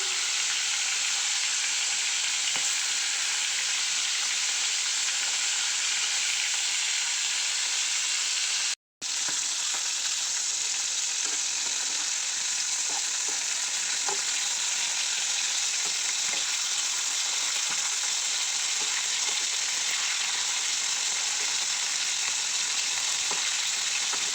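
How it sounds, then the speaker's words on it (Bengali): Fish frying in hot oil in a home kitchen give a loud, dense, continuous sizzle that crackles steadily close by, briefly cutting out once before carrying on, with no voices. "এই যে দেখো মাছ ভাজছি"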